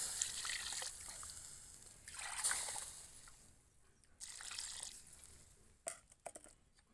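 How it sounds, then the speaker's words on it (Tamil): Water trickles and pours into a pot of country chicken curry in several short bursts, with gentle splashing and dribbling between pauses, heard close and fairly quiet. "தேவையான அளவு தண்ணி போ ஊற்றிக்கிறோம்"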